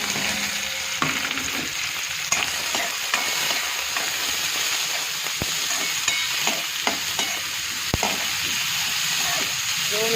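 Onion, cumin and curry leaves sizzle and fry in hot oil in a kadai, a steady loud hiss with occasional stirring clinks and scrapes throughout, no voices.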